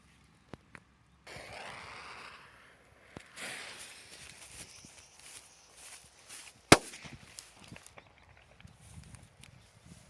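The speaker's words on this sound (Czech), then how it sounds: "Dáme čínskou petardou Pirát." A Chinese Pirát firecracker goes off with one sharp, loud bang partway through, set among scattered outdoor rustles, shuffles and small knocks before and after.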